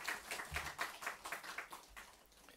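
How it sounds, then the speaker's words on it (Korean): Congregation clapping together in a church after a choir performance, a dense wash of many hands with rhythmic pulses, steady and moderately distant, fading slightly toward the end. "여러분 합창단 이렇게 감사한데 박수 한 번 더 쳐주시면"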